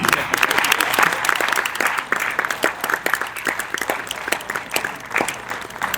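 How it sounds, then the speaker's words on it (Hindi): Loud, sustained applause from a large crowd, with dense rapid clapping rising and falling slightly throughout. "तालियों की गड़गड़ाहट इतनी थी।"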